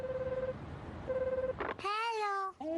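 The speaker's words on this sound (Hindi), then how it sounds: "चलो उन्हें जल्दी से कॉल करते हैं।" A cartoon telephone being dialed: steady dial tones followed by a short flurry of rising electronic beeps and a warbling ring, heard faintly under background noise.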